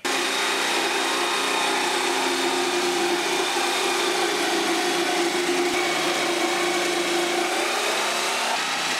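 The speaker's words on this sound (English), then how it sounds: "I'm just going to go right ahead and cut this shape out" A power saw runs continuously and loudly as it cuts a curved shape from wood for a folded horn speaker enclosure, a steady close whine throughout.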